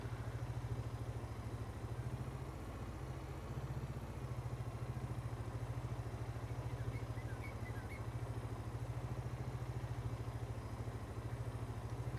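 Tractor engine idling in Farming Simulator 22, a steady low rumble with even rhythmic pulsing held for about twelve seconds, quiet and with no talking.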